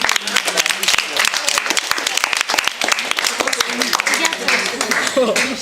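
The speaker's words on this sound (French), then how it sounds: "On applaudit s'il vous plaît" An audience claps warmly for a finalist at a potato peeling contest, a dense, steady patter of many hands close by, with voices talking over the applause throughout.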